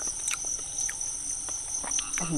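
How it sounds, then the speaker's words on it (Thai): A dense chorus of insects outdoors on a mountain, a steady high-pitched buzzing and trilling drone with scattered chirps layered on top, continuous throughout with no talking. "เรามาอยู่แบบ ที่ที่มีมแมลงเยอะ"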